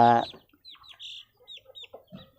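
Chickens cluck and chirp in short, scattered bursts after a brief loud opening sound, fairly close with quiet gaps between calls.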